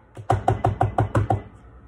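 Seven hard, evenly spaced knocks on a wooden door, loud and close, with no talking over them.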